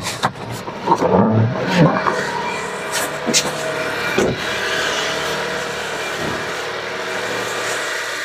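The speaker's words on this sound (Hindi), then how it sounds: "कार अभी स्टार्ट है आइडल पोजीशन पे है कैबिन नॉइज़ आप सुन सकते हो" A Tata Nexon facelift's engine idles with a low steady hum inside the cabin, with brief clicks and faint rustling over the constant background noise.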